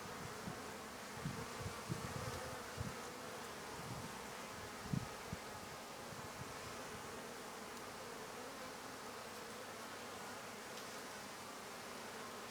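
A dense, steady buzz of many honeybees, including many young bees, during an open hive inspection fills the whole clip, close and continuous, with low rumbling bumps near the start.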